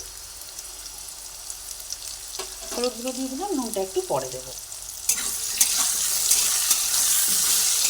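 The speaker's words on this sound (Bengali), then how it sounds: "দেখুন আলুগুলো ভাজা হচ্ছে" Diced potatoes fry in a hot pan with turmeric powder being added. A soft sizzle sits under a voice speaking, then swells into a louder, steady crackle for the last few seconds.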